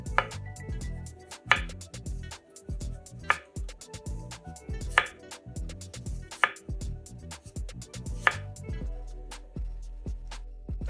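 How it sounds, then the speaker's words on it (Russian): A knife slices washed radish into thin rounds on a cutting board, giving a steady run of crisp chops with sharper board knocks every second or two, close and clear with no talking. "Редис моем и нарезаем тонкими кружочками."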